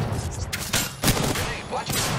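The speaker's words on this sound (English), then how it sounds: "The enemies are shooting at me." Gunfire bursts from enemies in the battle-royale game Apex Legends, a dense run of overlapping shots with broadband cracks, under a player's talk.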